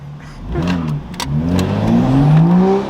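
BMW M235i engine revving close by, with the exhaust note rising and falling through several pulls, sharp pops and crackles breaking through between revs, and no voices.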